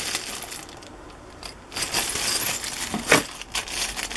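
Glass beads and small metal charms are handled and sifted, giving light, scattered clinks and rattles with a brief sharper jingle, close and alone without speech.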